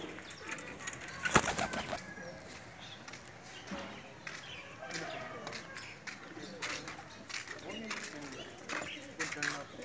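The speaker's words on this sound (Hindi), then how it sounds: "लाल मोतियों वाला ब्रीडर कबूतर है जी हमारा" Soft coos of a red-pearled Sialkoti breeder pigeon and scattered bird sounds under someone talking, with a brief flutter of wings.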